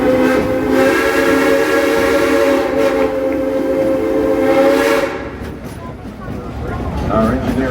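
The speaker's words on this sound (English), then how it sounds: "we'd like to give a couple of train whistles in your honor." Steam whistle of a tourist train at Silver Dollar City, sounding as a long, loud sustained blast for about five seconds before cutting off, leaving quieter rumbling rail noise behind.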